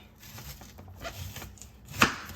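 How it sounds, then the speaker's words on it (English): A knife finely chopping a red onion on a cutting board, a run of soft close taps ending in one sharper, louder chop, with no voices. "I'm going to cut up a red onion, kind of fine."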